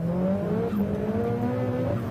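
A drift car working down through the gears on a mountain pass, engine note rising and falling steadily as it downshifts, loud and continuous without pause.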